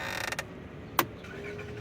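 Inside a Fisker Ocean One at startup, the dashboard vent gives a rapid series of small mechanical ticks, then a single distinct sharp click, close and moderately loud against a quiet cabin.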